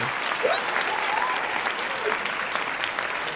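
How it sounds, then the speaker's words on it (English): A group applauds during an online podcast session, giving a continuous, fairly loud round of hand claps with a few faint whoops or voices mixed in. "I need some hand claps in the freaking chat."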